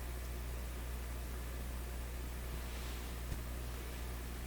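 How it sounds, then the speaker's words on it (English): A steady electrical hum from the speaker of a Hallicrafters S-40A vintage tube shortwave receiver, a low tonal drone beneath broad hiss, unchanging and fairly quiet throughout. "Okay, hear a hum? I hear a hum."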